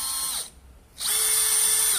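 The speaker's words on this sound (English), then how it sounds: "So I'm going to drill into both pieces of wood" A cordless drill bores into pieces of wood. A high, steady motor whine cuts out briefly for a half-second gap, then resumes at a slightly different pitch and stays loud and close.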